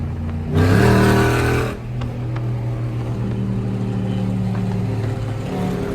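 A tuned Dodge Challenger SRT Hellcat on a highway gives a loud, close burst of revving, then settles into a steady, heavy exhaust drone at cruising speed.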